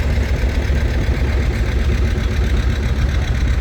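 A restored John Deere R tractor at a threshermen and collectors show parade in Albert City, Iowa, its engine running with a loud, steady, close, deep throb and no talking.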